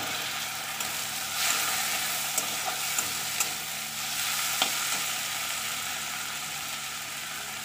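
Onions already lightly pink sizzle with tomato in a pan, a steady crackling fry under occasional light stirring taps and scrapes, with no talking.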